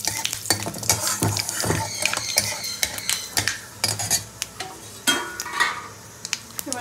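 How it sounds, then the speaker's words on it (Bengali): A dried red chilli tempering fries in hot oil with a light sizzle. Frequent metallic clinks and scrapes of a utensil against the pan sound close and irregular over it, and there is no speech. "তেলের মধ্যে শুকনো লঙ্কার 5 ফোড়ন দিয়ে দেবো। ফোড়নটাকে একটু ভালো করে ভেজে নেবো।"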